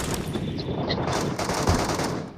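Rapid automatic gunfire from a video game, loud and continuous, with dense overlapping shots filling the whole stretch and no pause.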